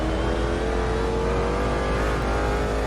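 Continuous loud roar of a Ferrari race car engine running on the Watkins Glen circuit during a historic prototype race, a steady revving drone with no talk over it.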